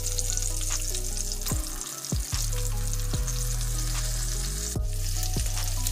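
Breaded oyster mushrooms fry in a small skillet, crackling loudly and steadily, with a few sharp clatters as pieces are turned, and no speech.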